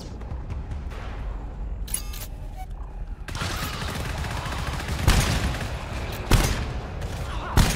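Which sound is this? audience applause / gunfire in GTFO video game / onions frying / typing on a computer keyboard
gunfire in GTFO video game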